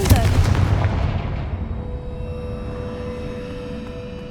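A Confringo blasting spell in Hogwarts Legacy explodes with a loud, close boom that decays into a long rumbling tail, with no voices.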